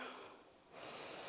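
A single audible exhale through the nose during a yoga pose, close and breathy, tapering slightly before a second, stronger push of breath with no words spoken.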